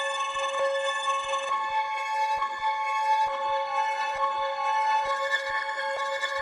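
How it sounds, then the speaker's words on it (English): A multi-keys synth preset chopped into short slices and reversed, sustained tonal chords swelling backward with regular clicks marking each cut, playing alone at moderate level. "this is that same multi-keys preset from the beginning, but it just sounds like this now, where I've done a bunch of chops, reversed it."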